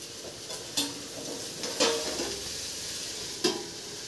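Sliced okra being sautéed in a pan over low flame, with a soft continuous sizzle and a few sharp spatula scrapes and knocks against the pan, close and without talk.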